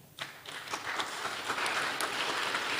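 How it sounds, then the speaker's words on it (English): An audience at an international agricultural and food science conference breaks into applause after a speaker's introduction, the clapping starting abruptly and building into a steady, moderately loud patter. "give a big applause for him"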